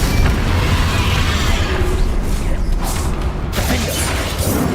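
A Confringo fire spell blasts during Hogwarts Legacy combat, a loud, dense rumble of booms and crackling mechanical clatter that runs continuously, with no clear gaps.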